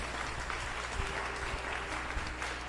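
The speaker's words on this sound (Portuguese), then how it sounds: "Vamos dar um forte aplauso, louvor ao nome do Senhor nessa noite." A church congregation claps together in steady, dense applause that fills the few seconds evenly, at moderate volume.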